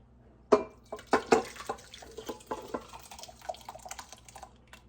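Liquid is poured into a small crock pot over browned pork chops, making a quiet run of irregular splashes and drips that start sharply, then trail off into softer spatters.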